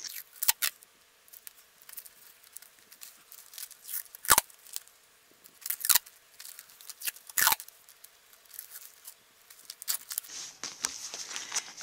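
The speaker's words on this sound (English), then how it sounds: "You're just going to tape over what you just did all around the" Packing tape is pulled and pressed around the rim of a clear plastic bag, giving scattered sharp crinkles and rips with quiet gaps between them, close and fairly soft.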